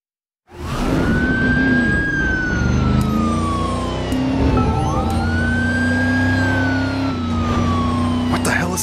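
Wailing ambulance siren in the Driver: San Francisco video game, rising and falling in long sweeps over a steady engine drone, loud and close, with game sounds underneath.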